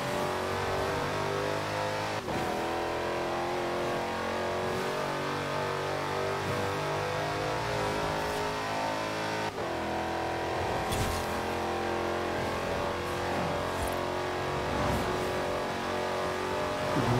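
Car engine in the racing game Forza Horizon 4 on a wet road, revving loudly and continuously with gear-shift dips, roaring close throughout with brief tire noise.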